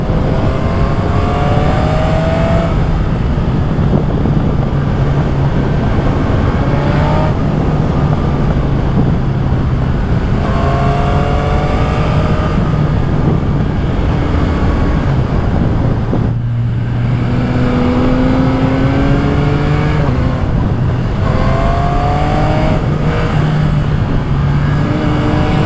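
Yamaha MT-09 SP motorcycle fitted with a full Spark exhaust, accelerating hard through the gears with a quickshifter: loud, close engine roar rising in repeated pitch sweeps, each upshift cutting sharply before climbing again, with no talk.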